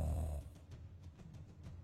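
A voice imitates a monster's heavy, rattling breath during a tabletop horror role-playing game: a loud, close rasping gasp, then a run of softer, repeated breathy pulses.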